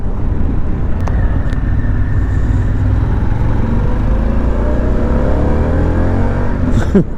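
Harley-Davidson Pan America motorcycle engine pulling hard under acceleration on a test ride, a loud, close, continuous roar with rising engine pitch sweeping upward, plus brief wind and handling noises.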